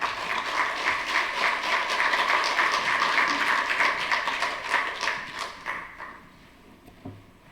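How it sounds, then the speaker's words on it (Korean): A congregation at a Wednesday church service claps to welcome a pastor coming up for a leadership lecture; dense, lively applause holds for several seconds, then thins to scattered claps and fades out. "뜨거운 박수로 맞이하도록 하겠습니다"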